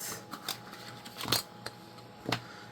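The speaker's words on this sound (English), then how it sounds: "So let's just cut this down to 8" Scissors cut through paper in a few separate close snips spaced irregularly, each a short crisp crunch, with no talking.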